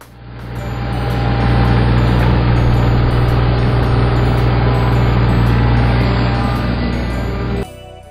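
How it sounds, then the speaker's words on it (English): Steyr tractor with a Pöttinger implement attached runs at a steady, loud engine drone with a deep low rumble, holding constant before cutting off near the end. "Steyr mit Pottinger Tractor."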